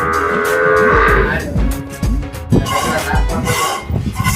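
A Gir cow moos loudly and close up, in one long drawn-out call followed by shorter lowing and some rustling nearby.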